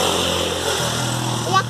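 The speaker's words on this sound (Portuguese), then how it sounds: "Ali a moto." Motorcycle going past on a street, a low engine hum that shifts pitch partway through as it passes, moderately close, mixed with voices nearby.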